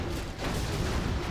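A nuke cannon fires in a China versus tank match of a real-time strategy game, producing a loud, dense blast with a sustained rumbling roar that fills the short stretch.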